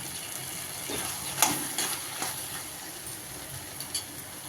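Onion, tomato and grated coconut sautéing in a pan for a drumstick chicken curry, giving a soft steady sizzle with a few clinks of a stirring spoon, close and moderately quiet with no talk.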